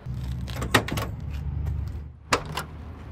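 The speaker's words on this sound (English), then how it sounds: "doors open up nice" A 1970 Chevrolet Chevelle SS 454 door opens with a pair of sharp metallic clicks and clunks, one near the start and another a moment later, close and fairly loud over a steady low rumble.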